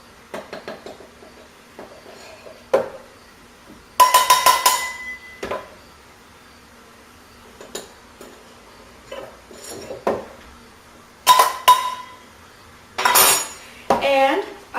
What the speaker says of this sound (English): I'm going to need to put 2 cups of flour in a bowl